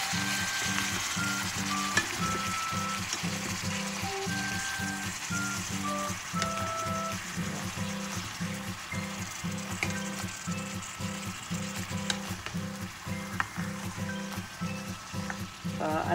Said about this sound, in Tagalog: gigisan natin hanggang lumabas yung sarili niyang katas ng baboy